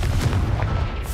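Blasting-spell explosion in the Hogwarts Legacy video game, a dense low booming rumble that fills the whole moment loudly with no pause or speech.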